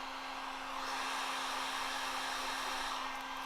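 A heat gun blows a steady, loud, continuous whoosh with a constant motor whine while warming window tint on a car window; no voices.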